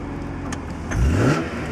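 A BMW M3 petrol engine with a manual gearbox idles close by, then gives one short rev that rises and falls back to a steady idle.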